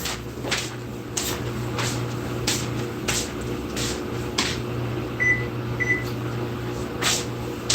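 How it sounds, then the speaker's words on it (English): A kitchen oven being switched on: a couple of short electronic beeps and soft clicks over a constant low appliance hum, nearby and fairly quiet, with no talking. "Let me go turn my oven on"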